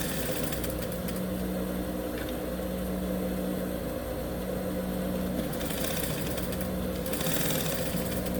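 A domestic sewing machine runs in steady mechanical bursts while stitching a backstitch on fabric for a cake cover, a continuous motor hum with brief pauses, close and fairly loud with no talk.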